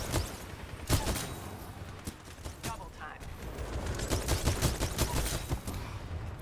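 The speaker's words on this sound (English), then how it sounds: "We're going to go right into using the Smart Pistol" Smart Pistol gunfire in the first-person shooter Titanfall 2, a run of sharp repeated shots with irregular spacing over a busy bed of in-game noise, with some vocal sound in places.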